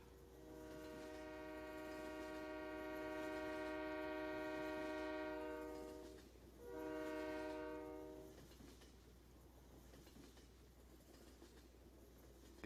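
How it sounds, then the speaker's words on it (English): A BNSF freight train in the Farming Simulator 19 video game sounds a loud sustained multi-tone horn for several seconds, then a second shorter blast, over a steady rumble of the rolling train that continues after the horn stops. "I mean, the whole train itself looks really good. It's just loud. Really, really loud."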